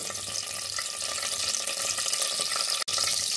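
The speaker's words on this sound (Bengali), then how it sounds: "পেঁয়াজটা দিয়ে ভালো করে ভেজে নেব" Chopped onions fry in a pan for a mutton curry, giving a steady, close, hissing sizzle with faint crackles throughout and one abrupt instant of silence near the end.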